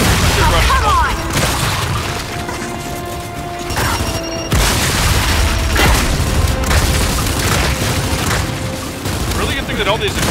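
Explosions in Gears of War 5 boom loudly and repeatedly over dense gunfire and mechanical game noise, with a sharp blast near the middle and speech mixed underneath.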